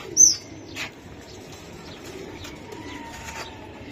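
Birds at a pigeon seller's loft of racing Giribaz pigeons, with one sharp chirp near the start followed by faint, soft calls over steady low background noise.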